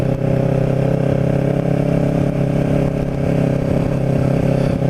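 A Kawasaki Ninja 650R motorcycle rides along a road, its engine droning steadily and loud from close by over wind rush, without pause throughout.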